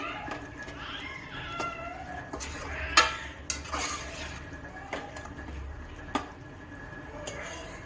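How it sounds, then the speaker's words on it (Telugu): A spoon stirs and fries gongura (sorrel leaf) prawn curry in a pan, with scattered soft scrapes and a few sharp clinks. A cat meows repeatedly over the cooking. "ఇది వేసేసిన తర్వాత ఒక 2 మినిట్స్ అలా నైస్గా మిక్స్ చేసుకొని కొంచెం ఫ్రై అవ్వనివ్వాలి."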